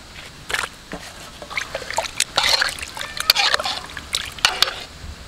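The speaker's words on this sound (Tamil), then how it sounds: "நான் வந்து இந்த கருவாடை போட்டு கழுவிக்கலாங்க" Irregular splashing and sloshing of water with scattered drips and trickles, close by, as dried ribbon fish is swished and rinsed by hand.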